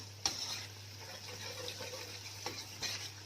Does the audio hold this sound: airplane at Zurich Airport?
no